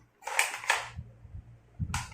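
A toy Nerf sniper rifle fires: two quick sharp snaps in succession, then a low rattle and another crisp burst near the end, close and moderately loud.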